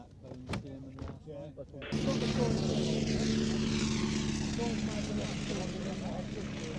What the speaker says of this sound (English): One of the most versatile of all military aircraft of its period, first flown in 1913